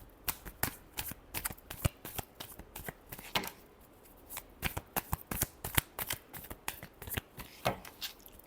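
A deck of tarot cards shuffled by hand during a reading, with quick crisp riffles and flicks repeating in an uneven rhythm, close and fairly quiet, with no voices.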